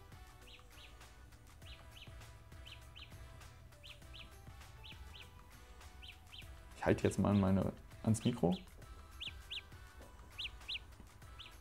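Samsung Galaxy Buds wireless earbuds emit small repeated high chirping locator beeps, bird-like, at a steady rhythm under a man's speech and some handling noise.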